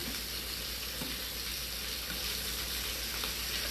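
Shrimp fry in a pan with a steady, even sizzle that holds at a constant level throughout, with no talking.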